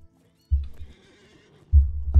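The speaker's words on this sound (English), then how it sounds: "we might as well get on horse and get to the area" A horse in the video game LOTRO neighs and its hooves thud, with two loud bursts of low hoofbeats separated by a quiet stretch, heard close and alone.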